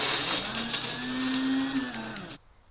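A kitchen mixer grinder whirs steadily while grinding dates, a close, humming motor whine that rises slightly in pitch before cutting off abruptly near the end.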